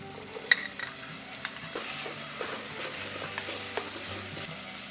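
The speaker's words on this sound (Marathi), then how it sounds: "त्याच्यामध्ये आपण हा बारीक चिरलेला कांदा घालून घेऊया." Chopped onion and capsicum sauté in an electric rice cooker for pav bhaji, giving a steady close sizzle with occasional spoon scrapes and taps against the pot.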